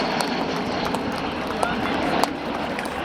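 Avro Vulcan B Mk2 XH558 flies slowly in formation with small RV8 light aircraft at the RAF Cosford Air Show, a steady distant engine drone and rushing air under a commentator's voice.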